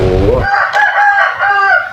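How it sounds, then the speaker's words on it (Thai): A rooster crows loudly and close by, one long drawn-out cock-a-doodle-doo following a brief low rumble at the start. "ถ้ามีเสียงไก่ก็กต้องขอโทษขออภัยด้วยนะครับ"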